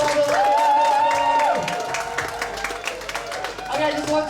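A Bali poetry slam audience claps and cheers for the finalists, a busy wash of applause beneath prominent shouting voices, with the clapping thinning out somewhat toward the end.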